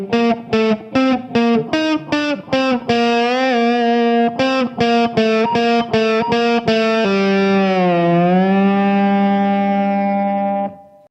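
Electric guitar with heavy distortion playing part of a riff, a series of choppy, clipped repeated notes followed by a long sustained note that bends, loud and close, with no talk over it.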